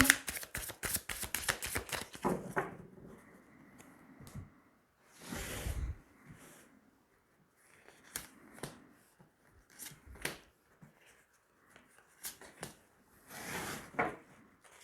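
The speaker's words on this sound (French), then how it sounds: "Allez, on va tirer 3 cartes." Tarot cards are shuffled in quick riffling bursts near the start, then drawn one by one with soft slides and taps spaced out across a quiet room.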